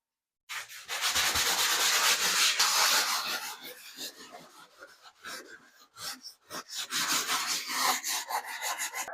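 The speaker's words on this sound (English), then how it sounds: "Now we're just sanding it so that the walls are smooth." Steady, close scraping and rasping of sanding joint compound on walls, continuous with brief pauses and shifts in stroke, no voices.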